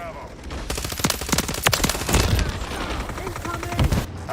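Rapid video game gunfire in dense automatic bursts mixed with heavier booms, loud and continuous through the whole stretch.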